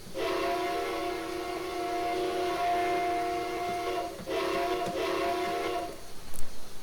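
A steam locomotive's whistle, an AT&SF Northern in Train Simulator Classic, sounds a long steady chime-like blast, pauses briefly, then blows again before fading out.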